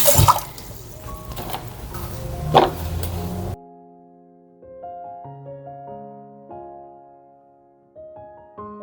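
Running tap water splashes steadily while dishes are washed by hand, for roughly three and a half seconds, then stops abruptly and quiet melodic music takes over.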